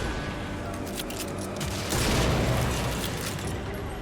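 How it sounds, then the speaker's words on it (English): Car blowing up in the Redfall video game, a heavy burst of explosion noise midway over a dense din of gunfire and game action. "I'm gonna blow up that car, maybe."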